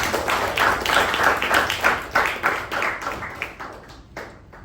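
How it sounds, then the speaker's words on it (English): Audience applause at a Toastmasters club meeting, a dense, steady round of clapping from a roomful of people that holds for several seconds and then thins out toward the end. "A big round of applause for Toastmaster Pavani"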